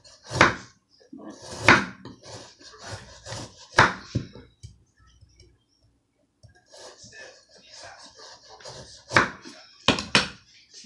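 Hard cutting of frozen doner kebab meat, layered mince and beef with marinade, into chips: several sharp, loud knife chops in uneven bursts, with quieter scraping between and a pause midway.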